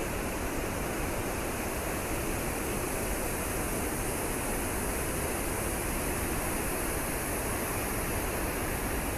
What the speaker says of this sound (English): We're really quite close to the waterfall now, and it's quite noisy